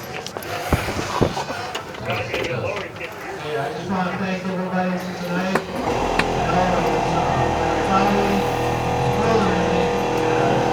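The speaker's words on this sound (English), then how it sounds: "Okay, and I'll show you how it lifts up." A 1967 Chevy Chevelle with RideTech airbag suspension rises at a cruise night, a mechanical whir and hiss building over outdoor crowd chatter and engine noise, with someone talking throughout.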